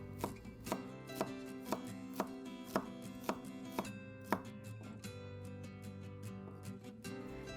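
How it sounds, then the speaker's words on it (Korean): A knife slices and julienne-cuts ginger on a cutting board in about a dozen crisp, evenly paced taps at close range, slowing and fading toward the end. "생강은 얇게 썰어준 다음 채 썰어주세요."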